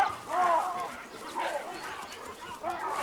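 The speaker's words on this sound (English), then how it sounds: "The alpha male sounds an alarm bark." An alpha male baboon gives loud barking alarm calls in the wild, three harsh barks spaced apart, with narration spoken over them.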